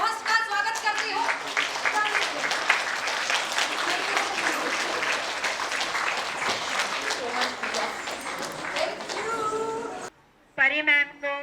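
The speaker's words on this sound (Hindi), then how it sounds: "तो आइए जोरदार तालियों के साथ मैं अपनी होस्ट और को-होस्ट का स्वागत करती हूँ।" An audience at a spirituality and meditation event gives a loud, sustained round of clapping to welcome the host and co-host; a voice carries over it, and the clapping stops abruptly before she speaks alone.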